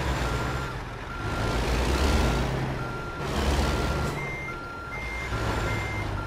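A truck in American Truck Simulator reversing, its steady repeated beeps sounding over a loud diesel engine drone that swells and eases as it manoeuvres.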